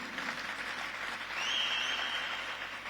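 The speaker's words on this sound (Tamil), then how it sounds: "நம்ம அனைவரும் நம்முடைய பாராட்டுகளை கைத்தட்டல் மூலம் தெரிவிப்போம்." Audience applause at a public event honouring an athlete and her coach, a soft, fairly distant patter of clapping that swells briefly midway and holds steady.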